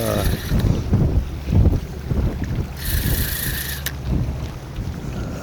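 Gusty wind buffets a fishing boat off Geumodo during autumn black sea bream fishing, a steady broadband roar with a brief hiss burst midway and faint low thumps beneath.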